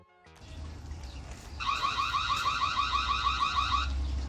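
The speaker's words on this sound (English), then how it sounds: "The built-in siren is loud enough to grab someone's attention if you're using the default alarm." The built-in siren of a Reolink Argus PT wire-free security camera sounds its default alarm, a loud, rapidly warbling electronic tone that kicks in after a short stretch of low background noise and repeats steadily until cut off.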